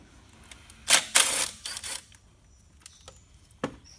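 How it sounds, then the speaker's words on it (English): A cordless impact driver backs out a 10mm bolt on a Toyota Hilux Vigo engine: two short, loud rattling bursts, then a quieter whir and a few faint clicks in a quiet workshop. "So impact driver, we'll get in there quickly."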